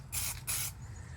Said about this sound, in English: So I'm going to go around and spray all the spots.